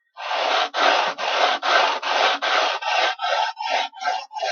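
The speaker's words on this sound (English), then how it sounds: "And then we sand it" A sanding block rubbed back and forth over wood on a workbench for a DIY chuck box, about ten steady rasping strokes in an even rhythm, close and loud with no talk.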